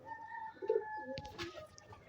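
Close, soft cooing from domestic pigeons in a loft, with a couple of short throaty calls and a brief sharp rustle or flap midway over a faint steady hum.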